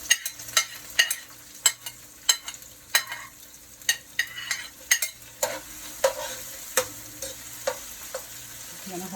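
Onions and sweet pepper sautéing in a pot for a Jamaican fish seasoning, a soft continuous sizzle punctuated by regular sharp scrapes and taps of a spoon stirring, close and steady.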